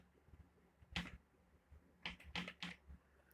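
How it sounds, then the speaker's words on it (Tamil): A few key presses on a computer keyboard while a captcha code is typed in: one isolated tap, then a quick cluster of three taps a second later, faint against a quiet background. "அந்த கேப்சா கோடை வந்து ஃபுல்லாக டைப் பண்ணிக்கோங்க."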